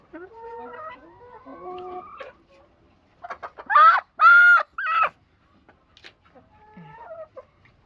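Hens on a chicken farm cluck close by in a string of loud, choppy bursts, with softer clucks and calls before and after, and no talking.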